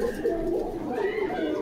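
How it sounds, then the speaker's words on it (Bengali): Homer pigeons at a Bengali pigeon market coo in a steady, close, rolling murmur, with a low voice talking faintly in the background. "এই যে এই বুড়ো এক জোড়া আছে হুমার কবুতর"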